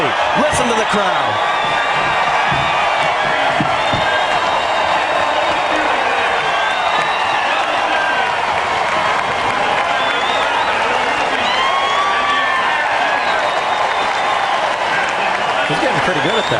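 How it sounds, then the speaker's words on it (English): Indy 500 crowd cheering and applauding after Helio Castroneves wins the 2009 race, a huge, sustained roar of a packed grandstand with whoops rising through it, while commentators talk over the noise. "Listen to the crowd."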